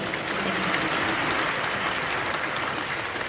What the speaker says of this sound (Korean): 우리 하나님께 감사의 박수.